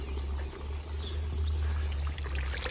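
Spring-fed water flowing steadily into an old stone horse trough outdoors, a continuous close splashing pour with a low rushing undertone and no pauses.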